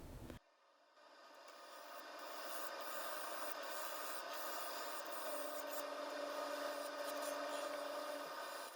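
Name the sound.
skew chisel hollowing resin and wood vase on lathe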